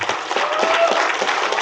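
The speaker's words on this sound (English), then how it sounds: "Round of applause while he shakes." Loud, steady applause from a crowd, dense clapping throughout with a faint voice underneath.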